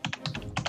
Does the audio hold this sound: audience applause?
no